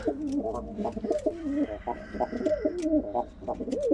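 A pigeon coos repeatedly in low, throaty rolling phrases, close by, with faint background chirps.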